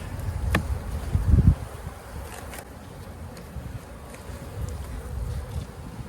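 Steady low buzzing of many honey bees around a hive, close by, with a couple of louder passes near the microphone and faint wind.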